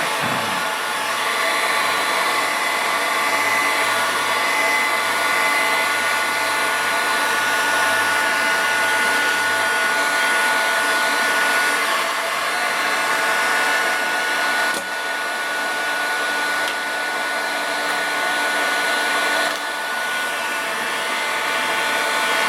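A heat gun blows steadily on a Kydex sheet to soften it for a DIY shell caddy, a loud continuous airy roar with a whine that holds for the whole stretch, only slight dips in level.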